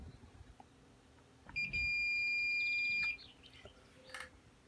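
Multimeter continuity beep while testing the input jacks of a Laney LA60C acoustic guitar amp, a single loud steady tone lasting about a second and a half, over a quiet background with faint handling noise.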